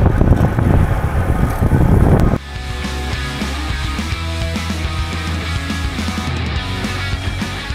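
Strong gusty wind during a cycling race, the Turkcell Gran Fondo Istanbul, roars loudly and low against the microphone for about two seconds, then falls to a steadier, quieter rush with a faint tonal hum beneath.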